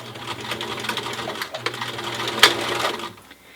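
A sewing machine top-stitches cloth for a protective face mask, running in quick rhythmic bursts with a short pause, close and clear, then stopping near the end.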